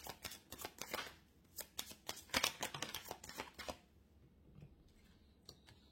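A tarot deck is shuffled by hand in rapid, crisp riffling bursts for about four seconds, then only a few faint card taps follow.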